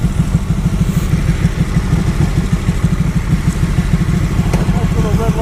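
Ducati 1199 Panigale S motorcycle engine idling nearby in traffic, a steady low rhythmic throb with rapid firing pulses running unbroken from start to finish, fairly loud.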